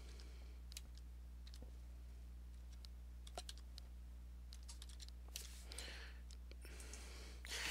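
Computer keyboard keys clatter in short irregular bursts as an ID and password are typed, fairly close and quiet over a steady low hum, with no talking.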